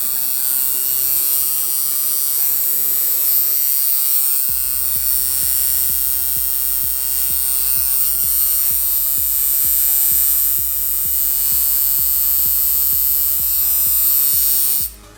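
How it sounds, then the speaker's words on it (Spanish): A coil tattoo machine buzzes close and steady as its contact screw is tightened. A pause near the start is followed by a denser, faster rhythmic buzz. "vamos a ir cerrando el tornillo de contacto para que veáis el resultado"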